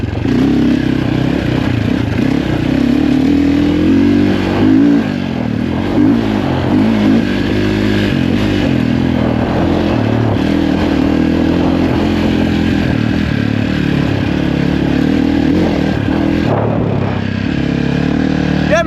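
A Sherco 450 SEF enduro motorcycle riding off-road, its engine droning loud and close throughout with uneven revving and clattering over rough ground.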